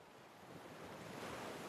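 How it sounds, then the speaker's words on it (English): Ocean waves at night, a steady soft wash of surf with a gentle rise in the middle, faint and continuous with no talking. "The ocean keeps the same slow rhythm."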